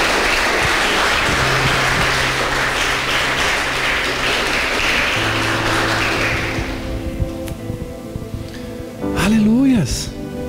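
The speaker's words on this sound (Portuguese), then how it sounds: "Aplaude a Deus aí, irmão" A church congregation applauds loudly for several seconds, a dense wash of clapping that fades out midway, after which someone speaks and musical tones and a voice rise near the end.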